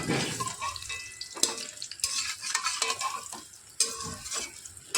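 Raw mango pieces fry lightly in hot oil while being stirred, producing a close crackling sizzle with irregular scraping and clattering bursts.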